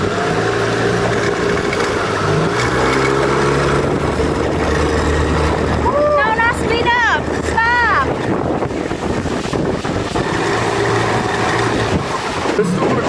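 A small motorboat's engine running on Lake Hodges, humming steadily under heavy wind buffeting and water splash, with people's voices and whoops rising over it midway.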